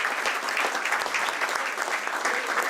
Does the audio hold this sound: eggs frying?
no